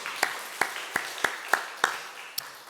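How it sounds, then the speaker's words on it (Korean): A church congregation claps in praise during a Sunday service, seven evenly spaced, distinct claps in a steady rhythm, sounding like a small group at moderate distance over a quiet room tone. "하나님께 영광의 박수 돌려드리겠습니다"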